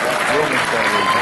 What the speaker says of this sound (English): a special round of applause for the most patient people in the hall.